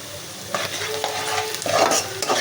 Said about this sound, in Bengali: ভাইজা নিচ্ছি